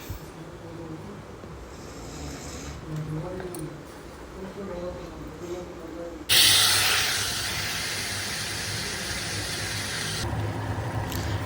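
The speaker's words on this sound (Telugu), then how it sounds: "ఆయిల్ వేడైనప్పుడు టమోటా ముక్కలను వేసుకోవాలండి." Tomato pieces dropped into hot oil in a kadai burst into a loud, sudden sizzling hiss that then settles into a steady spitting fry, following a quieter stretch where someone speaks.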